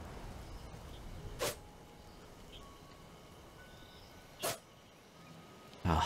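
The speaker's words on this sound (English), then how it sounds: "give me a second, I'm gonna sneeze" A single sharp sneeze from a person, close and brief, with two more short bursts of similar breathy sound spaced a few seconds apart over a quiet background.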